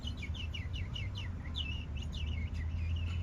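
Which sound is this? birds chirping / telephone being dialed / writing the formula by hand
birds chirping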